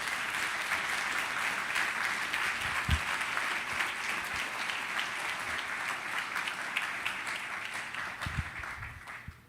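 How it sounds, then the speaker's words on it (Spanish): A church congregation applauds steadily during a Sunday service, dense clapping filling the whole stretch with a few louder thumps. "¿Cuántos le dan un aplauso a nuestro Rey,"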